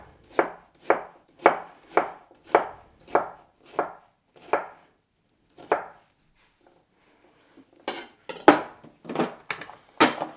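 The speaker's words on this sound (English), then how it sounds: "then cut them into sticks. And then cut across." A knife chops vegetables into sticks on a cutting board in a steady run of about a dozen crisp, close strikes, then a short pause before a few quicker, louder cuts, with no voices.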